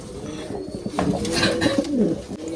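Pigeons coo close by in a loft of mixed breeds, a few low rolling calls repeating over a soft background rustle, moderately loud and alone without talk.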